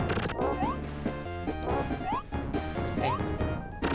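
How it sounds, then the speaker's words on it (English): Glass smashes repeatedly as it is shot in the retro Animaniacs video game, with sharp crashing bursts over bright game music, under quiet background speech. "I guess he only wants to shoot glass."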